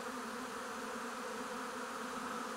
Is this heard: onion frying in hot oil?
no